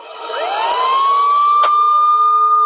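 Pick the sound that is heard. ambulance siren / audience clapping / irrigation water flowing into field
ambulance siren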